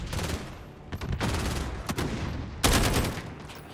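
Gunfire in the Modern Warfare campaign, a dense run of bursts and single shots with loud broadband cracks, a heavy burst near the end, all over continuous game noise.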